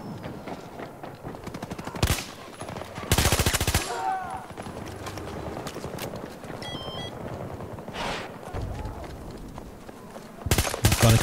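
AM40 assault rifle fire in Battlefield 2042, sharp bursts of rapid shots in short tapped volleys, loud and close, spaced between quieter game ambience with faint voices.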